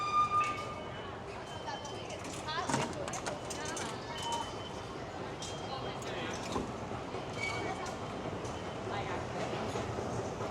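Underground New York City subway station near Hudson Yards, with a steady rumble of rail noise, scraping and clatter, and people talking throughout.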